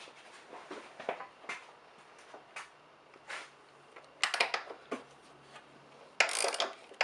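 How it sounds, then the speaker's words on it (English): Ratchet wrench driving a bolt down on a transmission mount, heard as scattered short clicking bursts at close range, some louder spurts of rapid clicks, with quiet pauses between and no talking. "And then ratchet this down the rest of the way."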